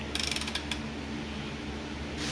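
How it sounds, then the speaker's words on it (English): A ratchet slowly turning the crankshaft of a Toyota 1NZ-FE engine during a rebuild with pistons installed, a quick run of close clicks at the start, then a steady mechanical hum and creak. "Okay, so got the ratchet on there."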